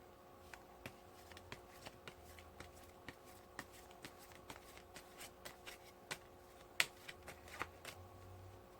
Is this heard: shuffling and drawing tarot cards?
yes